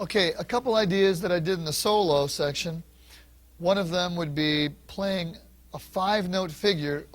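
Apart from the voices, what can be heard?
None of the usual background noises is heard.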